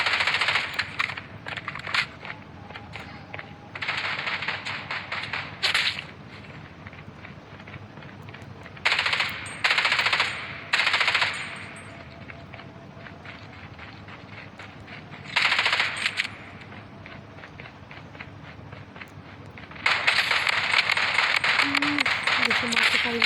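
Automatic gunfire in the mobile shooter game Blood Strike, a match played with only one gun: rapid bursts of shots in several separate volleys, loud and close, with someone talking over much of it.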